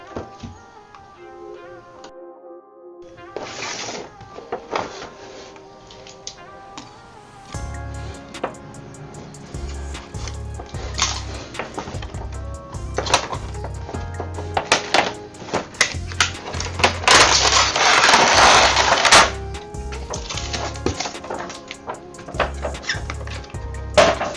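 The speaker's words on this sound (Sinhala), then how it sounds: "අපි එහෙනම් මේක unbox කරගමු." Plastic packaging of a PS4 DualShock 4 controller box being opened, with close, dense rustling, tapping and clicking handling noises that build into a busier crinkle of wrapping and cardboard toward the end.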